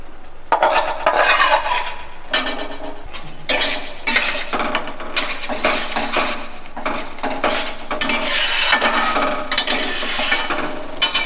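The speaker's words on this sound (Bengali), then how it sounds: "আমি এই আলু ভাজা আলুগুলো তুলে দিচ্ছি এর মধ্যে।" Fried potatoes tumble into a pan of thick cooked red lentils and get stirred, producing loud repeated metallic scrapes and clatters of a utensil against the pan in irregular bursts.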